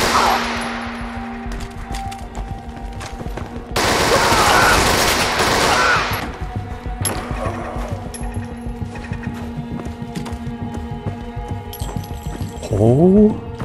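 An automated turret opens fire in the post-apocalyptic game Fallout: Frost inside a medical metro area, sustained bursts of rapid shots over constant game ambience, with a loud dense stretch and a brief speaking voice.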